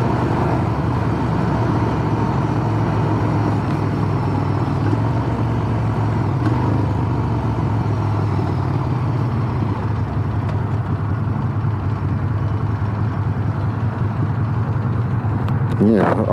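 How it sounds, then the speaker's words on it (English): A Ducati Monster Evo 1100 V-twin motorcycle engine drones steadily on the move, close and loud, with wind rumble and a voice talking over it. "It's just a big twin, real torquey, and doesn't sound like you're revving out very much."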